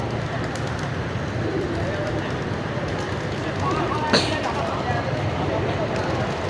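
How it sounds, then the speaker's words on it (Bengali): Pigeons coo amid a constant dense background wash, with low voices and one brief sharp click near the end. "এতক্ষণ দেখলেন কবুতরের ভিডিও"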